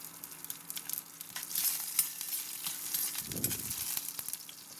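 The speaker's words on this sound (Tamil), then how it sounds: "இப்போ நம்ம ஒரு கடாயில கொஞ்சம் எண்ணெய் விட்டுருக்கேன். கடுகு, உளுத்தம்பருப்பு, ஒரு பச்சை மிளகா தாளிச்சுக்கலாம்." Mustard seeds, urad dal and a green chilli sputter in a little hot oil in a kadai, a faint continuous crackling fizz with quick popping specks and one dull low thud midway.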